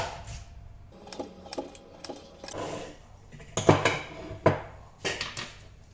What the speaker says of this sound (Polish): Kroimy pomidora.